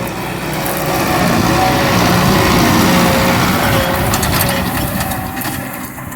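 A Kubota MU 5502 4WD tractor engine running steadily in second gear with the rumble and clatter of a cultivator working the soil, loud and continuous, no voices.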